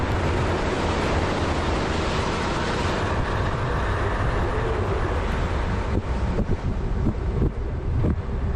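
Steady broadband rush of the Kunhar River flowing beside the mountain road from Naran toward Babusar Top, a continuous loud roar of water with wind-like hiss and no voices.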